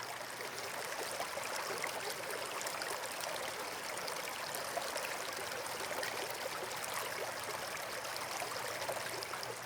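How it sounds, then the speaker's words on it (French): A small stream flows steadily over stones, a continuous close trickling and babbling wash with no voices and no breaks. "Ce petit ruisseau"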